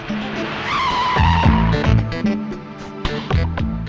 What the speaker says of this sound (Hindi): ड्राइवर गाड़ी रोको।